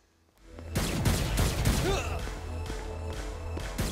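Video game gunfire from Saints Row: Gat Out of Hell: a loud burst of rapid shots with crashing impacts starts after a brief quiet, then continues as dense gameplay noise under steady sustained effects.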